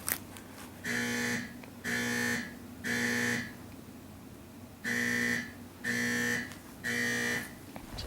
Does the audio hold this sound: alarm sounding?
yes